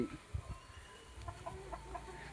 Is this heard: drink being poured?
no